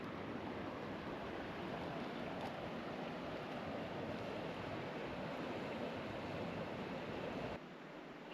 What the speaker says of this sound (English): Our first view of the water, Havasu Creek.